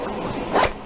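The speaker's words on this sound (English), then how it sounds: "Zip the boot up." A boot zipper is pulled up in one quick rasping stroke, close and clear, with no talking.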